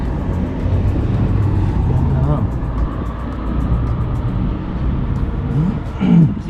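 A Honda Civic EJ9 donor car is driven with a low engine drone and road rumble beneath it, and people talk over the steady engine throughout.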